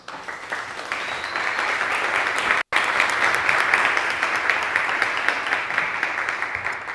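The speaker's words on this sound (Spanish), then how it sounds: "A mí me encanta esto del aplauso así al principio" Audience applause fills a conference hall at the start of a WordCamp Barcelona talk, a dense, steady clapping from many hands lasting several seconds with a brief break partway.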